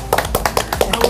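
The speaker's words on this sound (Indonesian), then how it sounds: "Saya boleh minta tepuk tangannya?" Small group of women clapping at a gathering, a short run of distinct, fairly close hand claps in an uneven rhythm, about eight separate claps in quick succession.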